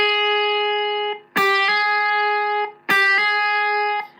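Electric guitar played clean at low gain, three sustained notes on the high first string, each freshly struck and then hammered on to a higher pitch, close and ringing with no talk.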